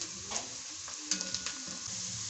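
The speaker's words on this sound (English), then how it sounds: "So our onion is cooking." Onion fries in a pan for a beans-in-coconut dish, with a faint, steady sizzle and a few soft stirring scrapes and taps.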